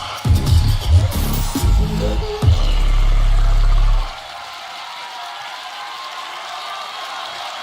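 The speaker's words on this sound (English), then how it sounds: "can you please make some noise for Japan's own" At the Grand Beatbox Battle 2023 tag team final, deep booming bass bursts fill the first few seconds, then a large crowd breaks into a steady, hissing wash of applause and cheering that carries on to the end.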